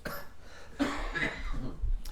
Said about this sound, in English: pause for you to cough